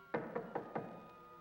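Four sharp knocks on a wooden door in an old film drama, evenly spaced and fairly close, followed by a quiet room with no voices.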